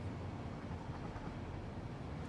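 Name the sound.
train riding along rails in the video game Satisfactory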